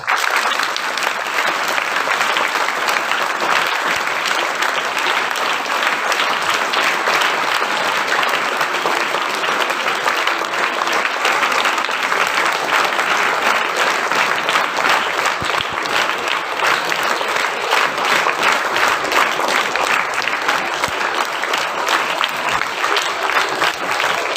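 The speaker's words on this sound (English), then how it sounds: "Let us welcome our esteemed judges with a thunderous applause." A school audience gives dense, sustained applause to welcome the judges at an English choral recitation for standards 5 to 7. The clapping stays loud and steady for the whole stretch, with no voices standing out.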